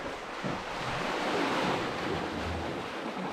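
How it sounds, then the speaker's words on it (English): Wild North Sea surf rushing against a land bridge, a continuous loud roar of breaking waves with gusts of wind buffeting the microphone throughout, no voices. "Look at this, folks, the wild North Sea out here."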